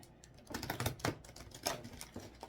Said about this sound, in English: Okay, I'll shuffle them one more time.